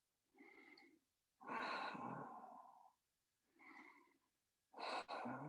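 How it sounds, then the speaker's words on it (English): Slow, deliberate breaths drawn in and pushed out through the nose during a yoga session, four soft airy swells with pauses between, close and faint. "breathing through the nose"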